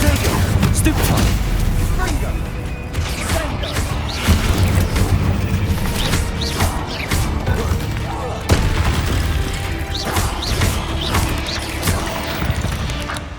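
Confringo fire-blast spells from the game Hogwarts Legacy, repeated booming explosions and crashes during a hectic spell-casting fight, with a voice calling out spells over the blasts.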